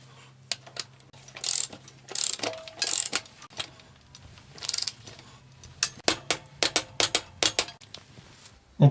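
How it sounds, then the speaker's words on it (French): A torque wrench ratchet tightening a Shimano Octalink bicycle crankset to 35 Nm: a close series of sharp, irregular mechanical clicks and short ratcheting bursts, some grouped and some single, over a quiet workshop background. "On pourra ensuite passer au verrouillage complet de celle-ci à l'aide d'une clé dynamométrique et en appliquant un couple de serrage de 35 Nm"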